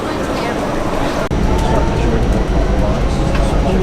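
An airport-bound train rumbles into a station with a loud, steady roar and low mechanical drone, with no voices over it.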